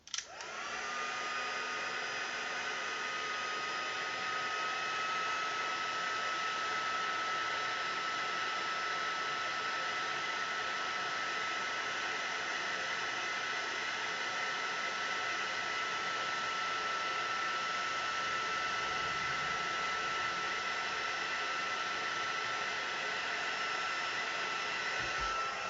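Craft heat tool warming embossing powder on a mixed media canvas, a steady, close, blowing whir like a hair dryer that runs without pause throughout.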